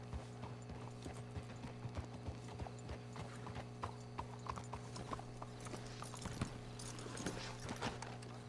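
Horse hooves clip-clop steadily in the Red Dead Redemption 2 video game, a continuous rhythm of fairly faint hoofbeats over a low background hum with occasional creaks of tack or wagon.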